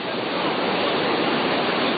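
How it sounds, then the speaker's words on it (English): Ocean surf at Sunset Beach, 8 to 10 foot waves breaking: a loud, continuous broadband roar of crashing water, steady throughout with no talking. "Good size swell, 8 to 10 foot surf"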